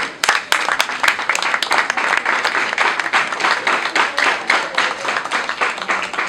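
A crowd at a school graduation ceremony applauds loudly, with dense, continuous clapping that holds steady from start to finish.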